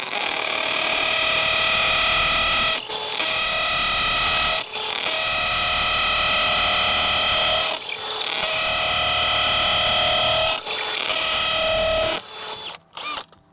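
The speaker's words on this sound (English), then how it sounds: "I'm gonna turn it to hammer here. That will help get through the mortar." A loud, steady hammer drill bores continuously into mortar with a rough, rasping tone, pausing briefly a few times before stopping near the end.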